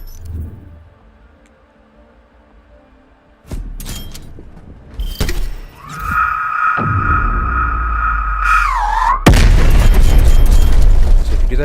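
A spawn tube fired and landing on The Pines map in Black Ops Cold War: a sudden burst, then a whirring mechanical tone while it flies, ending in a loud heavy impact and roar.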